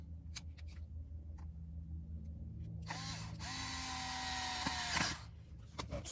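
Phillips screws being driven back into a rear window switch on a 7th generation Nissan Maxima, soft ratcheting clicks with a short burst of whirring screwdriver in the middle, close and quiet.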